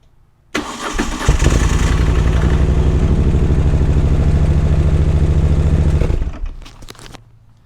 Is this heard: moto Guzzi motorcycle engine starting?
yes